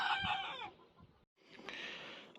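Bielefelder rooster crows loudly and up close in a chicken pen, its harmonic call breaking off briefly before hens' clucking and fowl noise carry on, with no talking.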